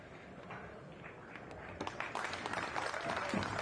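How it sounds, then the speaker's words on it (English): Crowd applause at a 2021 Predator World 10-Ball Championship pool match, starting modestly and swelling after about two seconds into steady clapping mixed with taps and brief voices. "Nice round of applause."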